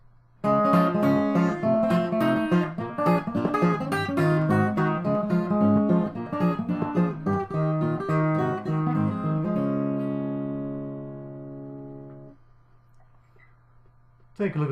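Fingerstyle blues guitar plays a rag, with thumb rolls driving a busy syncopated run of plucked notes for about ten seconds, then a held chord rings out and fades to near silence.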